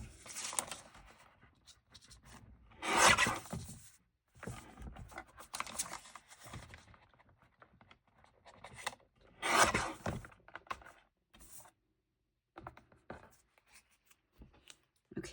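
Fabric being cut out by hand with scissors, eyeballed rather than measured, heard as close, intermittent snipping and rustling bursts with quieter handling between, no talking.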